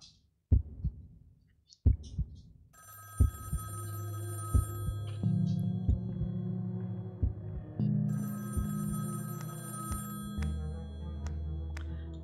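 Telephone ringing in the horror video game Sally Face, repeated electronic rings over a low throbbing, heartbeat-like pulse and dark droning music, fairly quiet overall with sharp thuds scattered throughout.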